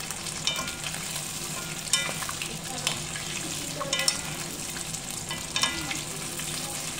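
Cheese spring rolls fry in oil with a continuous crackling sizzle, close and moderately loud, broken by occasional sharp pops and utensil taps while stirring; no speech.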